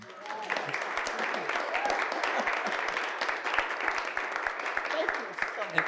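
A room of people applauds steadily, a dense wash of clapping that holds for several seconds, with a few voices mixed in.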